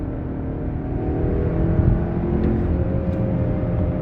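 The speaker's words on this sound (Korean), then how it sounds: "엔진이 쉽게 5000rpm을 넘기면서 빠르게 변속을 하고 가속을 해나가는 모습들을 볼 수가 있는데" A Kia K8 2.5 sedan accelerates in sport mode, heard from inside the cabin as a steady, muffled engine drone that swells gently with no one speaking.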